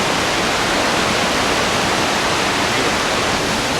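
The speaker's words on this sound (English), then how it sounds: "Made it to the waterfall." A two-story waterfall on a hiking trail roars loudly and continuously up close, a dense, even rush of falling water with no other sounds.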